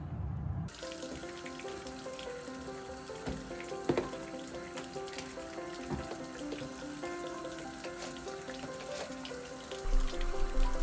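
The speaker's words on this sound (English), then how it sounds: "Then I put the bucket under my tub faucet and filled it with the hottest water that I could get." Hot water runs from a bathtub faucet into a bucket in a steady, close splashing stream with a ringing tonal fill that continues throughout, then briefly grows louder near the end.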